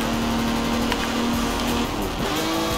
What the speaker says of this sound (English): We'll try to drift it around this turn.